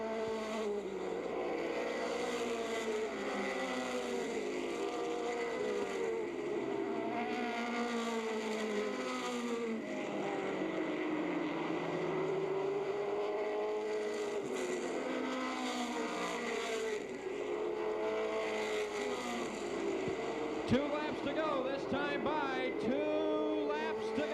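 Race cars in the Old Milwaukee 100 stock race drone past at full speed, engine pitches rising and falling as they pass, with the sound quality of an older broadcast.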